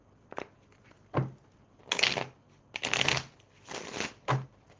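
Tarot cards being shuffled by hand, several separate riffling bursts with short pauses between them, close and clear with no talking.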